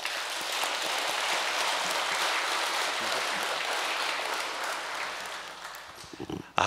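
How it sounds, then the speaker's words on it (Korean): An audience at a Korean church worship event breaks into sustained applause. The dense, steady clapping continues for several seconds before fading into a few brief trailing sounds. "큰 감사의 박수 부탁드리겠습니다"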